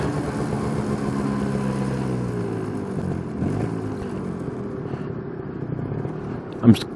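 A motorcycle engine exhausting through an expansion pipe runs at a rough idle and then revs in a workshop garage, steady and close, with a person talking over it and a sharp knock near the end.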